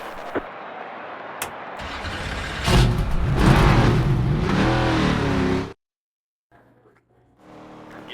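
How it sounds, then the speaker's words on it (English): Race car in the NASCAR 25 video game pulls out of the pits at Bristol, engine revving up loud and rising for several seconds, then cutting to near silence before a quieter engine hum returns. "So we'll now come out of the pits to start our 2 qualifying laps here from Bristol."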